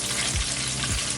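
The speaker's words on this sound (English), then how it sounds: "So I'm going to just continue to remove the chicken from the hot oil here." Chicken fries in hot oil in a pan, a loud, dense, crackling sizzle that runs steadily through a brief moment with no voices.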